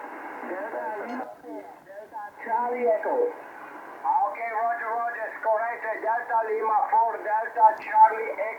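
Noisy shortwave reception on the lower part of the 40 metre amateur radio band, a band-limited voice signal buzzing steadily through hiss and static, readable but rough, with no clean gaps.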